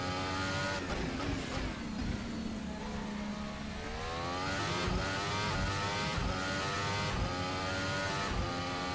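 A Formula 1 car at the Baku circuit in a racing video game screams through its rev range, its high-pitched engine whine climbing and dropping through quick gear changes, continuous and prominent with no talk.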